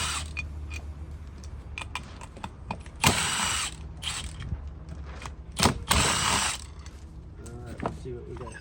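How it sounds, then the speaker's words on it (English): A ratchet wrench clicks in quick bursts while taking apart a Jeep spare tire hub adapter, with louder creaking turns and metallic clatter close by, and speech is heard at times. "I'm going to quickly take this hub apart."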